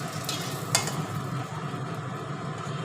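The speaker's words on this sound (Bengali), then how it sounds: "এখন এখানে লুচিগুলোও ভেজে নিচ্ছি" Luchi deep-frying in hot oil makes a steady, even bubbling sizzle, close and moderate in level, with one brief metallic tap early on.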